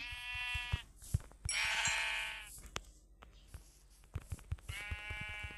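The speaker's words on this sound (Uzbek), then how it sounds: "mana birinchi qo'y ham topildi" Sheep in a survival video game bleat in two clear, sustained calls separated by a pause, each backed by soft rhythmic footstep-like taps in the game world.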